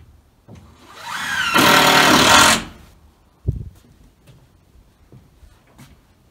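A power drill drives into a timber frame in one loud, close burst of about a second, followed by a knock and scattered light handling sounds.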